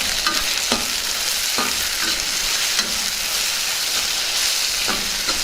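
Green peas fry in tempering oil with a loud, dense, continuous sizzle, while a spoon scrapes and taps the pan at irregular intervals throughout.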